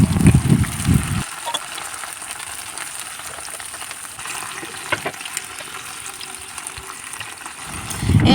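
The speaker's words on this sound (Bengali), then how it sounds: "তেলটা একটু ভালো গরম হলে তার মধ্যে ঢ্যাঁড়সগুলো আমরা ভেজে নেবো" Okra frying in hot mustard oil in a wok, with a steady close crackle and sizzle that swells louder at the start and end, as if being stirred or just added.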